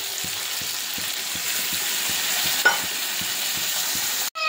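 Curry sizzles steadily in a hot pan, a loud continuous frying hiss with faint rhythmic stirring taps and one brief sharp clink near the end.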